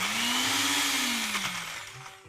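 A kitchen blender whirs loudly as it crushes pesto ingredients with olive oil, its motor pitch sliding downward midway as the blades bite into the mix, running steadily alone with no talk.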